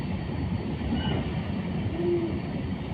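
13126 Sairang to Kolkata Express moving slowly along a curve over the Nasipur rail bridge above the Ganges, a steady dense rolling rumble with a faint squeal, no voices.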